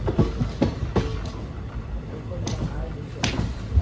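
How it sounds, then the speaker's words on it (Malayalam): An express train rolls into a station on the Chikkamagaluru to Bengaluru line, its carriages rumbling with repeated clanks and rattles, heard from inside a general-class coach, while a voice speaks over the din. "കനിവേഹള്ളി സ്റ്റേഷനിലേതാ ട്രെയിൻ എത്തുകയാണ്."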